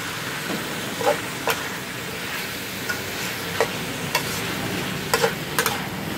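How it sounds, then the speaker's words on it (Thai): Chicken offal stir-fries in a pan with a continuous sizzle, broken by scattered sharp knocks and scrapes of a spatula against the pan, close and without talk. "ผัดไปเรื่อยๆนะคะ นี่นะคะผัดมาสักพักนะคะ"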